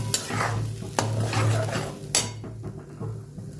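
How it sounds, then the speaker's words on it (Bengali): Onion, poppy seed, tomato and cashew paste frying lightly in a pan for matar paneer while being stirred, a low steady sizzle with several sharp clinks and scrapes of the spoon, fading near the end, with no voices. "ভালো করে নেড়ে একটু হালকা ভেজে নেব।"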